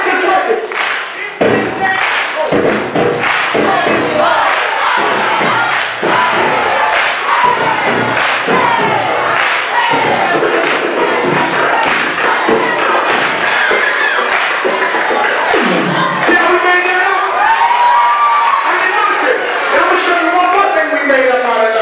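A school assembly audience in a high school hall claps and cheers loudly, a dense, sustained crowd roar with rhythmic thumping and shouts running throughout.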